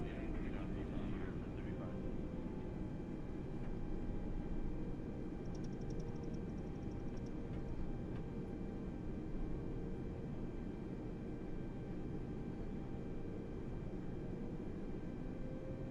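Steady broad engine and air noise of an A320 airliner taxiing at an airport in Microsoft Flight Simulator, a continuous even drone for the whole span with faint tonal whine, no speech.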